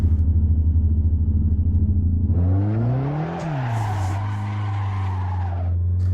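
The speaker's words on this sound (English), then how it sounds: "I will just get used to drifting one corner first" A car drifts around a corner in the Assetto Corsa racing game, its engine idling in a pulsing rumble before revving and sweeping up and down in pitch as the tires screech through the slide.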